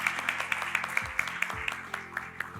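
An audience applauds a participant at a school quiz competition with rhythmic, steady clapping throughout. The clapping is loud and close, and a faint voice sits underneath it.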